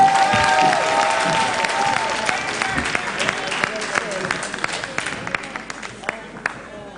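Audience applause for presenters at an education conference opening ceremony, a full wash of clapping from a seated crowd with distinct sharp claps and faint cheering mixed in, slowly tapering as it goes on.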